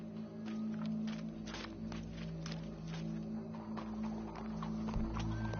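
A horse's hooves clip-clop at a steady walking pace, a series of sharp, fairly close knocks over a low steady hum, ending with a heavier thump.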